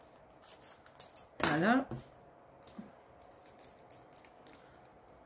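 Scissors cut through the packaging of a cross-stitch kit, a short rasping burst near the middle surrounded by faint handling clicks; someone speaks briefly at the end.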